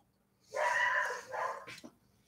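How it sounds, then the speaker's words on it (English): A dog gives a short pair of barks, the first longer and the second clipped, with a faint yip at the end, heard from nearby against a quiet background. "Can you guys hear that dog?"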